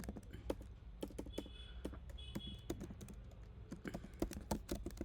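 Rapid clicking keystrokes on a computer keyboard while Java code is typed, steady and close but quiet, with irregular bursts of taps and no talk.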